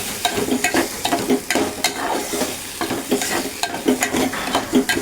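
Drumstick (moringa) leaf vegetable stir-fried in oil in a home kitchen, a continuous close sizzle broken by steady rhythmic scraping of the spatula through the pan, with no talking.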